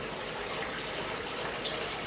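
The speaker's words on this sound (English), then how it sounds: "the moving bed is also bubbling away nicely now" Steady bubbling and gushing water from a moving bed filter and an air stone in a koi pond, close and continuous with an even, dense wash of sound and no pauses.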